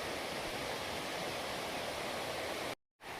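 A river flows near Kings Creek Falls along a foothills trail, a steady broadband rushing wash heard up close, cutting out briefly near the end.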